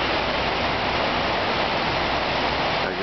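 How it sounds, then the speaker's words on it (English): Water cascading steadily into the North Tower footprint pool at the National 9/11 Memorial at the World Trade Center, a loud, continuous, unbroken roar of falling water with no talk over it. "As you see, the water seems to go in this pit forever."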